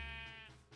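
A sheep bleats once in a Minecraft Lucky Blocks game, a short wavering cry that fades out, faint and alone.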